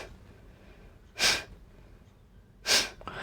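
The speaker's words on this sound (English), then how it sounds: "So I'm breathing out forcefully and then doing a kumbhak, which means holding my breath for as long as I can." Two forceful nasal exhalations about 1.5 seconds apart during slow Kapalbhati pranayama breathing, each a sharp, close burst of air with quiet breath-holding in between.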